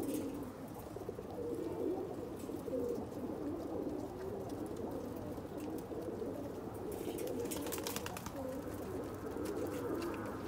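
Pigeons cooing in a coop, soft continuous low cooing from several birds close by, with a brief flurry of rustling or wing flaps near the end.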